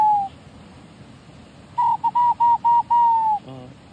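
A man whistles an imitation of local bird calls: a single clear note, a pause, then a rhythmic run of short whistled notes ending in a longer one, followed by a brief low fluttering trill, close and alone.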